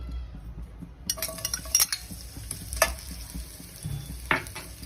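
Onion hits hot oil in a kadai and starts a sudden crackling sizzle, then a spatula stirs and clinks against the pan in irregular bursts, close and moderately loud.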